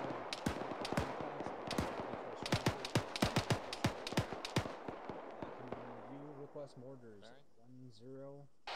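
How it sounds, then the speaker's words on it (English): Rapid gunfire in a military video game: a quick run of sharp shots over about five seconds, followed by a fading tail. Voices talk over the firing. "No, that was a rapid rate of fire. That's too high a rate for suppressing fire."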